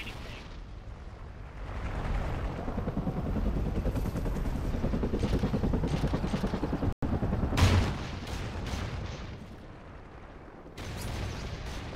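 Military helicopters in a shooter video game give a steady, loud rotor roar that nearly fills the clip, broken by a brief dropout and followed by sharp gunfire-like bursts.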